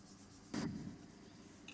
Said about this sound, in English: I've got a little round file here and I make sure the holes are clean